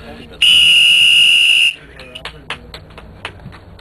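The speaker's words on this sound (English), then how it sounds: "I can blow my whistle if I want." A single shrill whistle blast sounds for about a second, followed by scattered clicks and faint background noise.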